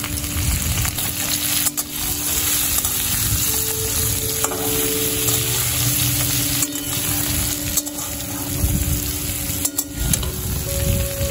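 Potatoes and drumsticks fry together in a pan with turmeric, giving a loud, steady sizzle close by, with stirring scrapes now and then and no talk.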